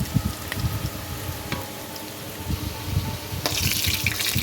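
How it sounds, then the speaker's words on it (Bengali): Boiled potatoes fry in oil in a pan for chicken biryani, crackling and bubbling up close as they are turned, with the sizzle growing brighter and louder toward the end; no one speaks. "সেগুলোকে ভেজে নিচ্ছি আলুগুলো এপিট ওপিট করে একটু নেড়ে ছেড়ে ভেজে নিতে হবে"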